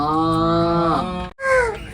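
A child imitates a cow mooing with a long, loud, drawn-out vocal moo, then a brief second moo after a short pause.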